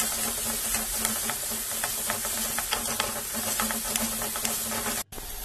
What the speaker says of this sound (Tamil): தக்காளியை ஆட் பண்ணி இதையும் ஃப்ரை பண்ணிக்கலாம்